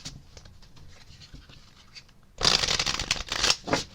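Tarot cards quietly handled at first, then shuffled briskly in a loud, close, riffling burst for the last second and a half, with no talking.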